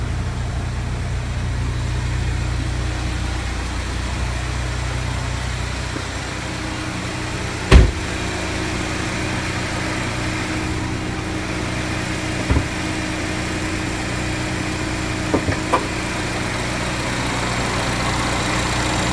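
A 2015 Chevy Equinox's 2.4-liter four-cylinder EcoTec engine idles at a steady, low rumble with a constant hum, broken by a few short knocks and clicks nearby.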